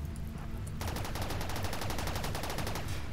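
Rapid automatic gunfire in the video game Rimworld, a dense, loud, evenly spaced stream of shots that starts abruptly and runs continuously without voices.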